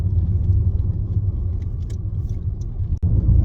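A heavily loaded car drives on a cold, dry day in Ireland, giving a steady, close low-pitched road rumble and engine drone throughout with no voices.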